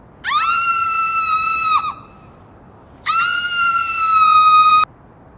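A person screams twice in a drama scene: a long high sustained shriek of about a second and a half, a short pause, then a second longer scream, loud and close with no other sounds.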